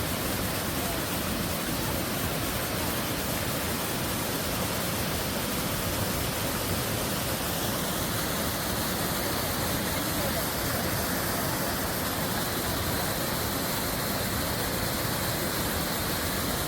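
Steady roar of a waterfall at Nerstrand Big Woods State Park, a dense broadband wash of falling water that stays loud and unbroken throughout, with faint voices of people swimming nearby mixed into the rush.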